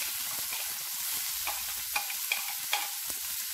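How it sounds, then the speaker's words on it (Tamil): Steady crackling sizzle of finely chopped onions frying in hot oil, with occasional sharper pops and stirring scrapes, close and continuous. "வெங்காயம் நல்லா வதங்கணும்."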